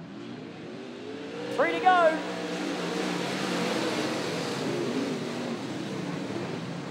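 Late model race cars roar around a speedway at night in a Sydney A-Main, the engines swelling and revving from a distance. The engine noise stays steady under a track announcer's commentary.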